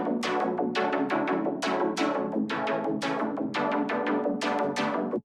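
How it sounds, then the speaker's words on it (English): A synth part in a liquid drum and bass track following the piano's chord progression, with bright plucked stabs in a syncopated pattern, steady and loud with no voices. "I want to talk about this synth that comes in the second half."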